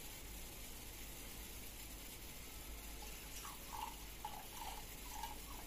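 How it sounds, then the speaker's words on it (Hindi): Water pours steadily into a pan of milk tea being made at home, a faint continuous splashing hiss. "पानी डाल देते हैं दीदी हल्का"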